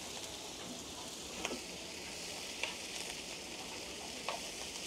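Forest vegetables sizzle steadily in a hot pan while being stir-fried over a fire beside a stream, a constant crackling hiss with a few faint clinks of stirring and no voices.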